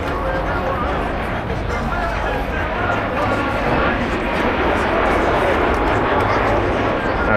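Display aircraft flying at the Blackpool airshow, a propeller plane carrying wing fuel tanks for its smoke system, giving a loud, continuous engine drone that fills the whole stretch without letting up.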